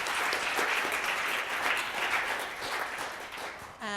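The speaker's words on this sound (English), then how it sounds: "Can we give them a quick round of applause?" A quick round of applause from a lecture audience on child protection: steady, broad clapping from many people, moderately loud and even throughout, ending abruptly.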